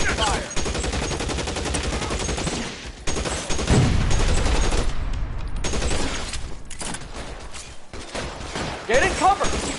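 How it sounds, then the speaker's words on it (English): Heavy gunfire in L.A. Noire, dense bursts of shots and automatic fire rattling almost continuously at close range, with short lulls and brief game voices mixed in. "Lay down some covering fire."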